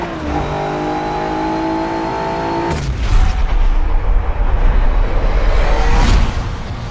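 A race car in Forza Motorsport 7 holds a steady engine drone, then bursts into loud, close, roaring acceleration with rising revs and whooshing rushes. The sound stays intense for several seconds before easing, with no voices over it.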